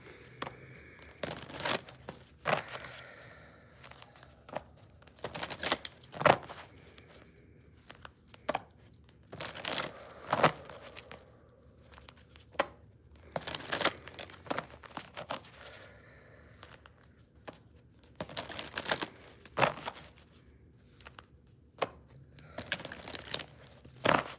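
Tarot cards being shuffled by hand, a series of soft riffling and papery rustling bursts that come in irregular clusters with quiet gaps between, fairly close and low in volume.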